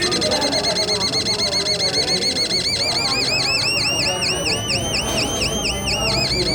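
A homemade battery-powered electronic circuit gives out a shrill synthetic bird-and-cricket imitation, a fast series of repeated rising chirps that grows louder and more regular, with a steady electronic buzz beneath it and a voice talking over it.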